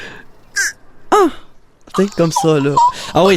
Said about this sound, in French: si vous entendez une corneille qui crie du nez, on peut dire ainsi, ben, c'est peut-être une corneille de rivage.